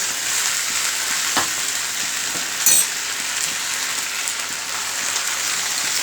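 Fenugreek leaves sautéing in oil in a pan, giving a loud, continuous crackling sizzle close up, with a few brief clinks of stirring and no voices.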